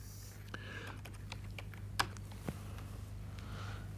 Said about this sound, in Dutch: Door een oer-Hollandse naam in te typen.